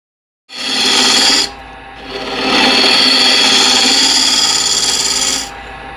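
A wood lathe turning a bowl while its tenon is cut down in height, giving a loud steady whirring hiss of the tool on spinning wood, with a short easing-off before the cut resumes and then stops.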